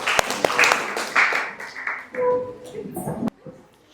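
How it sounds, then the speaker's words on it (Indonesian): Classroom applause during a 10th-grade quadratic equations math lesson: a burst of students clapping together that fades after about two seconds, with chatter and voices mixed in and continuing afterward. "Silakan duduk, beri aplaus untuk kita semua."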